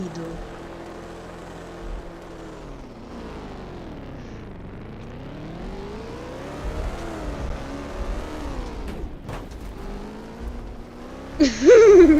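A Roblox game car driving in reverse, its engine drone sliding up and down in pitch as it revs, loud and steady, with voices talking and laughing over it and a sharp squeal near the end.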